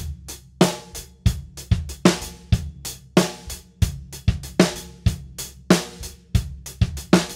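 A basic funk drum groove in 4/4 without ghost notes, played on a kit: punchy kick and snare hits land in a tight, repeating pattern, close and loud, with cymbal wash ringing over each stroke.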